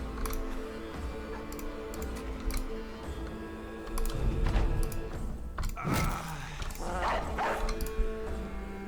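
A dog unit in a strategy video game barks and growls in a few short bursts, mid-level over a steady game soundtrack, with brief clicks from the interface.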